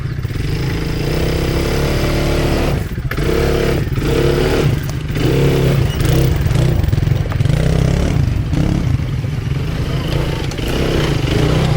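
A quad bike engine revs and accelerates loudly up close, its rough mid-pitched drone rising and falling in pulses with clattering over it, and the engine noise never stops.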